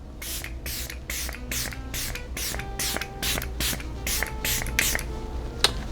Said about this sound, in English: this setting spray is going to help take away that powder look